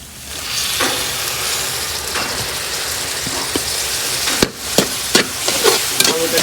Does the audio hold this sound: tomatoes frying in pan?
yes